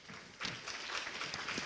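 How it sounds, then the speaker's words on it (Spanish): Brief, moderate applause from an audience at a panel talk on ethnic-racial diversity in cultural institutions, a soft, even patter of clapping heard from a short distance. "Así que un aplauso para Andrea."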